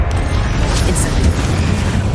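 The Incendio fire spell in Hogwarts Legacy erupts as a booming, roaring burst of flame, a dense low rumble with crackling texture that stays loud and close for a couple of seconds.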